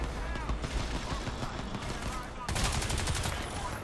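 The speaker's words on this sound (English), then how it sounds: "Was that alien shooting at you?" Alien gunfire in the video game Crysis 2: dense, continuous bursts of shooting with sharper, louder volleys in the last second and a half, blended with game effects.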